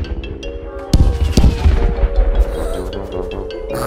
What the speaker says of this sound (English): And now it's time for the big fireworks.